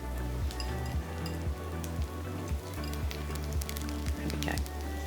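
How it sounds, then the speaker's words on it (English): Mushrooms hit a hot pan already cooking marinated tofu and set off a soft, steady sizzle with faint crackles, fairly quiet, beneath a low background hum. "we're gonna add in our mushrooms"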